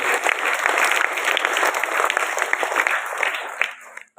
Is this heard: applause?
yes